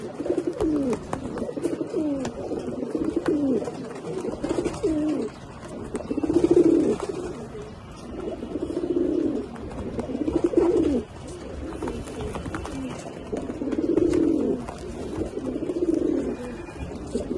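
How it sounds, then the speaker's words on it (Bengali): Silver Jabra pigeons in a loft cooing in repeated rolling phrases, several birds close by with deep pulsing coos rising and falling every few seconds over faint background noise. "অনেকে জাবরা কবুতর পছন্দ করেন। সিলভার জাবরা যেটাই বলে।"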